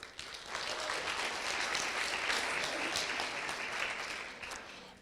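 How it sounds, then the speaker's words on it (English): An audience at a tech conference demo session gives a round of applause for Provar, dense steady clapping that swells quickly and then tapers off near the end. "Round of applause for Provar."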